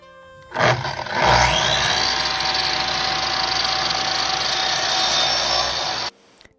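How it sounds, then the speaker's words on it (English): A miter saw trims the ends of a wooden furniture piece during a flip: the motor whines up quickly, then a loud, steady, close-up cutting roar runs for about five seconds before stopping abruptly, with no talking. "I'm measuring it so that I can cut it on the miter saw"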